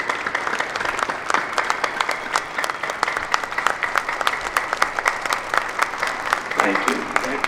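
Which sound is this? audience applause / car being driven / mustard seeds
audience applause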